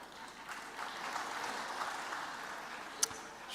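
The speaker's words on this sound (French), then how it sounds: "Je crois que ça mérite totalement vos applaudissements" Applause from an audience at a French-language talk, a soft, fairly distant patter of clapping that stays even throughout, with one sharp louder clap near the end.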